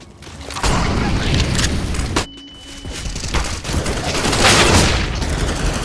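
Loud, continuous spraying gunfire in a CS:GO round, dense automatic shots close up with a brief lull partway before the firing resumes.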